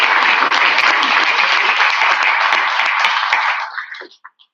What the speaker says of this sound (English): So let's give a big round of applause.